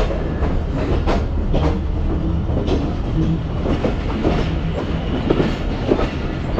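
A train pulls into Lala Musa Junction station in Pakistan, with a loud, steady rumble close by and rhythmic clickety-clack of wheels over rail joints running throughout.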